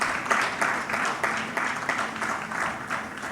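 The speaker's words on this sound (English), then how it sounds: "Let's once again give them a very warm round of applause." Audience at a wellness foundation summit gives a round of applause, a steady wash of many hands clapping, moderately distant and fairly soft for the whole stretch.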